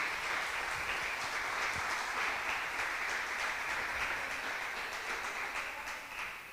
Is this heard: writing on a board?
no